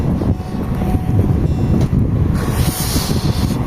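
Cold wind buffets a microphone outdoors, a steady, loud low rumble and roar that swells slightly near the end, with no talking.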